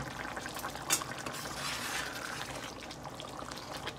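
About a cup of boiling water is poured into an egg curry in a pan. A soft, faint pour blends into a gentle simmering hiss, with no talk.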